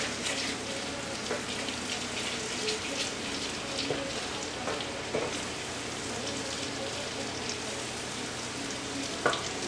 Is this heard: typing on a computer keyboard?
no